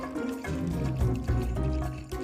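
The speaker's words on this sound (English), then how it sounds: "To add flowing water to your river, use the water bottle at the top of your riverbed and slowly pour." Water pours slowly from a bottle onto a sand riverbed model, a close, steady trickle and gurgle with soft drips running throughout.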